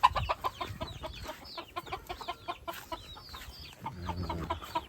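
Native egg-laying chickens cluck and chatter close by at the nest, a busy run of short, repeated clucks and throaty calls with occasional higher squawks, no voices over them.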